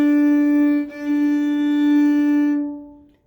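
A bowed string instrument played with a practice mute on the bridge sustains one steady, fairly loud note, with a brief break near the start, then fades out.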